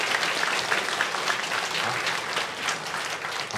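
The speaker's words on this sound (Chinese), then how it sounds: "我们给年轻人一个掌声" A church congregation at an Easter service applauds the young people, a sustained, even wash of many hands clapping throughout.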